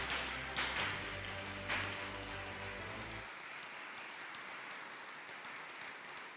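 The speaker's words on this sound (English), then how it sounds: "Please give a rousing round of applause for all the recipients" Applause for award recipients at the Governor-General's Achievements Awards ceremony; scattered claps sound over a sustained musical tone that stops partway through, leaving quieter, fading clapping.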